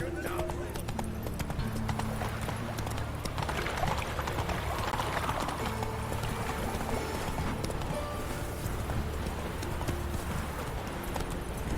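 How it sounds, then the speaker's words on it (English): Horse hooves clip-clop steadily through a fantasy landscape in the video game Witcher 3, a continuous rhythmic trot under background music and game ambience, with a voice speaking over it. "Whoa there, Roach."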